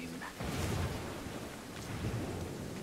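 Rain and a rolling rumble of thunder in the video game Warhammer: Vermintide 2, a steady wash of rainfall with deep low swells of thunder, moderately loud and without speech.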